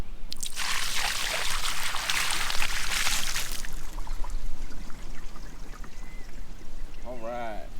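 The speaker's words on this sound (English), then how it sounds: "this should be enough to see what happens when you dump the water onto the windshield when it's untreated" Water dumped from a bucket onto the untreated windshield of a 2011 Corvette: a loud, rushing splash for about three seconds, then fading trickles and drips, with a voice speaking briefly near the end.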